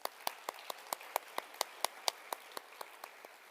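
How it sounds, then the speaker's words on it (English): Sparse clapping at a conference award ceremony, steady individual claps at a regular pace, faint and distant in a large hall. "Another round of applause."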